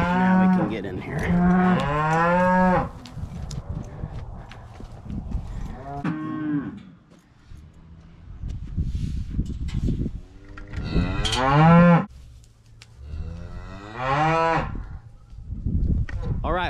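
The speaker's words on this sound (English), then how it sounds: "We're just down to a pile of calves and this cow that needs to go through the chute." Cow and calves mooing at a farm chute, several loud drawn-out moos with quieter gaps of shuffling and bumping between them.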